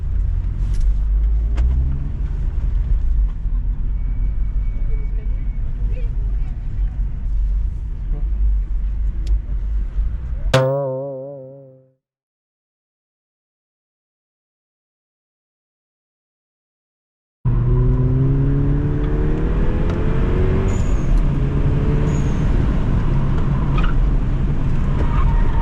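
Car cruising at moderate speed on a racing circuit, a steady engine and road rumble that fades out abruptly into silence, then resumes with cabin noise and faint engine tones.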